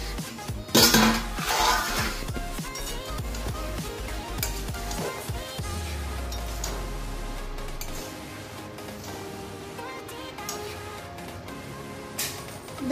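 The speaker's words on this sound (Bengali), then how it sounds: "এখন ঢাকা খুলে দেখে নিচ্ছি।" A metal lid lifted off a pot of cooking basmati rice, giving a sharp clank near the start, followed by clinks and rattles of pots and utensils over steady kitchen background, no talking.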